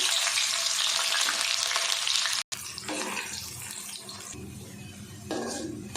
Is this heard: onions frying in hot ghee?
yes